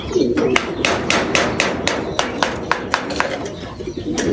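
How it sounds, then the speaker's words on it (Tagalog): Racing pigeons flutter in to land at their home loft after a derby race, giving a rapid series of sharp wing claps and landing thumps over steady background noise, with no talk. "Asawa ni Big Boy to mga kalapatids"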